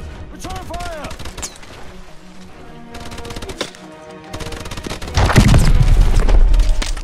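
Gunfire from the Call of Duty Advanced Warfare campaign mission Throttle: bursts of shots at the start, quieter mid-section, then heavy sustained firing and booms that swell near the end, mixed with game music and voices.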